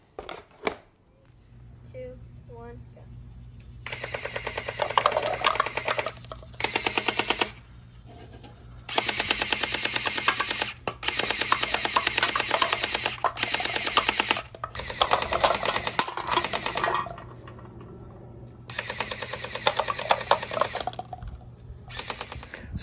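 A battery-powered gel ball blaster toy gun sprays gel balls in rapid buzzing bursts, several seconds each, separated by brief pauses, with a steady motor hum underneath and no talking.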